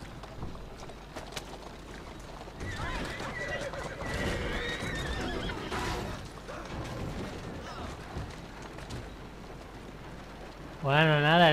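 In the video game Assassin's Creed Syndicate, a horse whinnies and hooves clip-clop amid game sounds and mechanical clatter, with a voice talking throughout and a tonal chime at the end.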